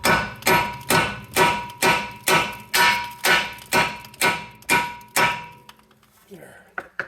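A hammer taps on the strut assembly of a 2007 Malibu Maxx, striking about eleven close, metallic blows in a steady rhythm roughly twice per second before stopping, followed by faint clatter.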